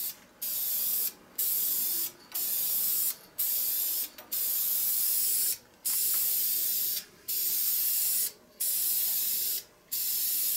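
Aerosol sealer sprayed onto a wooden handle in about nine even bursts, each a loud close hiss separated by short pauses.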